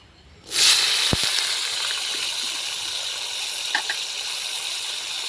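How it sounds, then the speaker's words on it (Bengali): Green peas dropped into hot oil in a pan, an abrupt loud sizzle that settles into a steady close hiss, with a few faint clinks of utensils. "এখন মটরশুঁটি ভেজে নেব।"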